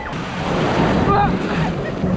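Rough sea waves wash and break in a continuous windy roar close to the microphone, with wind buffeting the mic throughout.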